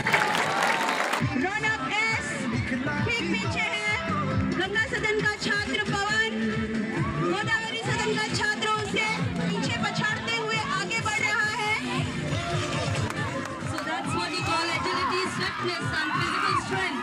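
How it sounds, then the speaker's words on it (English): Crowd of students cheering for athletes at a school sports day, with dense shouting, whoops and clapping sustained throughout, loud and close, mixed with voices. "Contingents, the houses cheer for your athletes."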